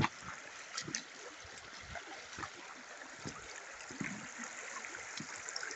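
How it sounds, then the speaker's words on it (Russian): A swollen, fast-flowing river in the Siberian taiga rushes after night rain, a steady broadband wash with gurgles and splashes, moderately loud and continuous. "Ну, посмотрите, какой поток"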